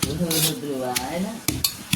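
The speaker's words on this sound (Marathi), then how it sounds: "आपल्या ओरट्याने तव्यामध्ये आपण हे चेचून घ्यायचा." Green chillies are pounded on a hot iron griddle with a wooden pestle, giving a few sharp, close knocks and scrapes spaced apart, with a faint hum between strikes.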